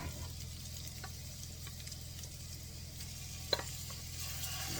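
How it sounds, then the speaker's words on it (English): Spaghetti squash hits a hot pan of homemade sauce and sizzles in a soft, steady hiss over a low hum, with one brief sharp tick partway through. "now I am going to add the spaghetti squash to this"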